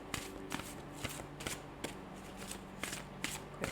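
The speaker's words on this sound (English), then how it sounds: "Quick shuffle of the intention portals" Tarot cards shuffled in quick bursts, a series of crisp riffling flutters with sharp slaps repeating about every half second, close and fairly quiet with no talking.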